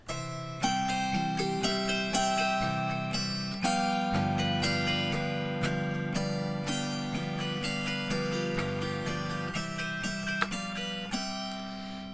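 Close autoharp playing with pinched chords and thumb strikes on the low bass strings between them, a busy continuous strummed rhythm, no voices.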